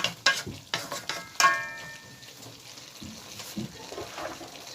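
Fish and flat beans sautéing in a pan, with sharp clatters of a spatula stirring near the start giving way to a steady frying sizzle, close and moderately loud.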